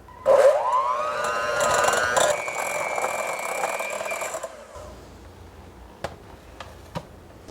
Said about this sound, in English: with a hand mixer, we're just going to blend